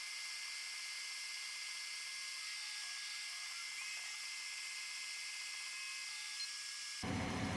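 An Epson V1070 UV printer laying down varnish on a piece of acrylic, giving a steady, faint mechanical whine and hum with a few tonal lines, ending in a brief louder change.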